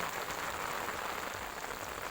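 Steady rain falls outdoors where egrets roost, a dense continuous patter on surfaces at even loudness, with no voices.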